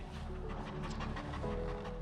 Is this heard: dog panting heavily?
yes